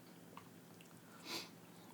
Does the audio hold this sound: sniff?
yes